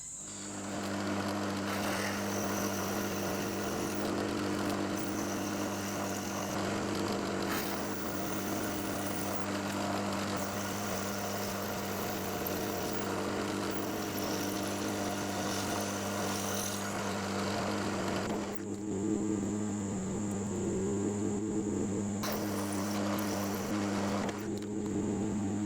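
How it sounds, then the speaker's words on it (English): Drilling and tapping holes on a knee mill, a steady machine hum with spindle tones running continuously for about twenty-five seconds, with a brief drop in the high whine near the end before resuming. "So I'll go ahead and drill those and tap them."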